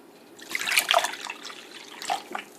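Apple cider pours into a pork-belly bacon brine in a short, close trickle with a few splashy gurgles, quiet and brief.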